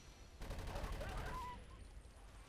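Rapid gunfire in the Avatar video game, a quick burst of repeated shots lasting about a second, fairly faint in the mix and tailing into a low background hum.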